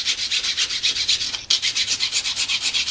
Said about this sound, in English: So I'm just going to rub that over my file.